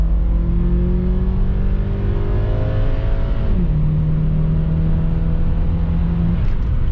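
Twin turbo 2-liter Subaru Legacy accelerating, a loud close engine note climbing steadily in pitch, dropping briefly at a gear change, then holding a steady drone.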